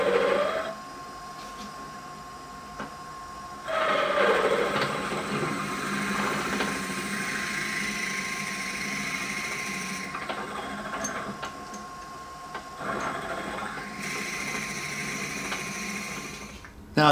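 Drill bit boring slowly through a wooden pepper mill head on a lathe, with several bursts of rising whirring and grinding separated by quieter steady motor hum as the bit is cleared of chips.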